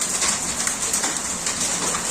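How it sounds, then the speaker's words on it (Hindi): Heavy rain mixed with falling hailstones during a hailstorm, a dense, loud, continuous patter and clatter that stays steady throughout with no voices. "बारिश के साथ जो ओले आए हुए थे वो आप देख रहे होंगे"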